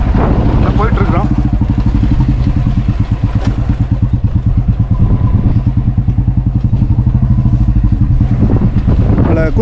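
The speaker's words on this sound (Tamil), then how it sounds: "இன்றைக்கி வந்து பைக்கில் வந்து ஆக்சுவலாக போயிட்டுருக்குறோம்" A motorcycle engine runs steadily at close range while riding, its rhythmic throbbing continuous throughout, with a voice talking in Tamil over it near the start and end.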